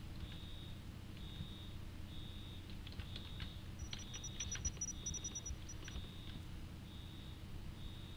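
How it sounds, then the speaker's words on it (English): An alarm in the game INFRA sounds as a steady series of faint, evenly spaced high beeps repeating about every second, with quiet keyboard-like clicking and a brief higher chirping layered in midway. "it's the alarm"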